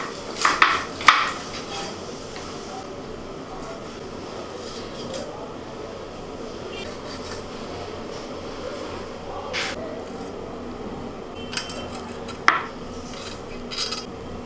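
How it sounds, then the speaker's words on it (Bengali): Chicken leg pieces are cut into small chunks on a kitchen surface, giving sparse knife taps and board knocks over a quiet hum, with a few sharper clacks near the start and toward the end, and no talk. "এই চিকেনের লেগ পিসগুলো এখন আমি ছোটো ছোটো টুকরো করে কেটে নেব।"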